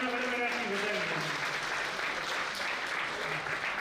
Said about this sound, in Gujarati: પ્લસ તાળીઓના ગડગડાટની વધારી છે